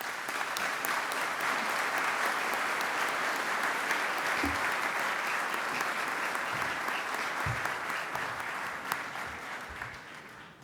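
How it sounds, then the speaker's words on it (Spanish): Sustained applause from an audience welcoming a speaker at a business association anniversary event in Mendoza, dense steady clapping lasting throughout at an even level. "Lo recibimos con un fuerte aplauso."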